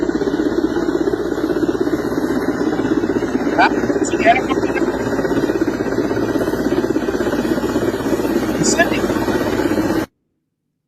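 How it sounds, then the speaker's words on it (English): A helicopter flies overhead, its loud, steady rotor and engine drone running unbroken for about ten seconds with a few faint high chirps above it before cutting off abruptly. "Now the Guinea helicopter there."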